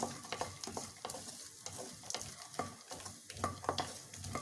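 Chironji seeds and makhana are dry-roasted and stirred in a pan for ragi sweet chivda. A light, steady crackle runs throughout, and close scraping strokes of a spoon come in an irregular rhythm.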